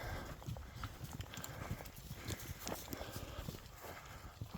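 Cows walking along a trail, hooves clopping in an irregular, steady patter at close range over a rustling outdoor background, with no talk.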